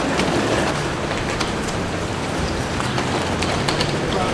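Steady rain falls on a rainy day at a cruise ship boarding, a dense, even hiss that stays loud and constant throughout with no talk over it.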